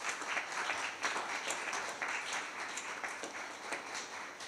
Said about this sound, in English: So now, please, with our applause, welcome all the invited guests.